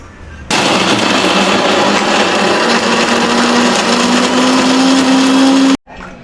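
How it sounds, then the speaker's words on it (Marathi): A mixer grinder blends crab claws into a paste for a village-style crab masala, a loud steady whirring roar running for about five seconds with a rising whine, then cutting off abruptly. "मिक्सरला लावून घेऊ आपण."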